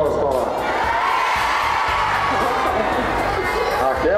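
A studio audience at a Brazilian TV talk show cheers and shouts loudly, a dense continuous crowd roar with whoops filling the whole moment.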